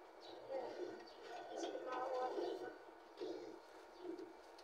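Pigeons being fed and released coo and flutter at moderate distance in a faint, busy outdoor scene, with a voice calling to the birds over them.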